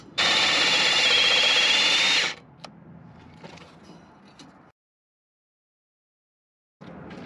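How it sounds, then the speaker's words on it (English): Rivets being driven out of a truck part, starting with a loud two-second burst from a power tool, then a few sharp metallic knocks and handling noises, a stretch of silence, and the tool starting again. "I got all the rivets driven out of this piece"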